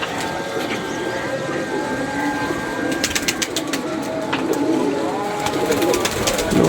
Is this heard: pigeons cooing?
yes